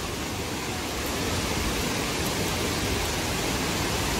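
Strong rushing water from a mountain stream on the way to the Dlundung camping ground in Mojokerto, a steady dense broadband roar that holds close and unbroken throughout with no voices.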